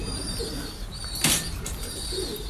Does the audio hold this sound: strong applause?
no